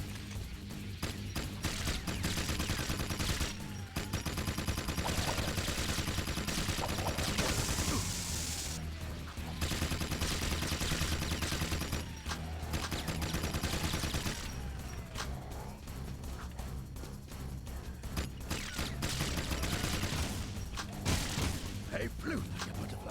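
Rapid bursts of gunfire from the video game Jak 2, dense and loud with brief pauses between volleys, over game music and effects.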